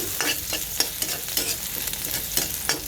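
Sautéing in a pan, a steady frying sizzle broken by repeated scraping stir strokes in an uneven rhythm, close and moderately loud throughout.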